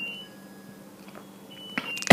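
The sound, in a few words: dishwasher beeping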